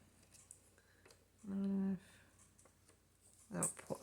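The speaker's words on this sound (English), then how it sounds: "see, there's a little bit of a something here I need to snip off" Scissors make a single short snip through a small piece of paper up close, with a second brief crisp cut a couple of seconds later in an otherwise quiet room.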